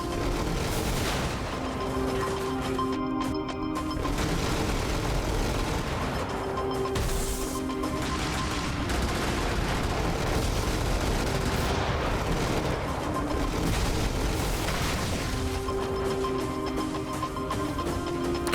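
Gatling cannon on a mech in the top-down game Brigador, firing a long continuous rapid-fire stream of shots with booming impacts, loud and steady throughout with no pauses.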